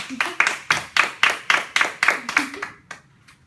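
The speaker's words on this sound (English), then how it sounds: "let's give a round of applause to Jeannette Walls." An audience at a live morning broadcast claps for author Jeannette Walls: firm, rhythmic handclaps in an even pulse that thin out and stop near the end.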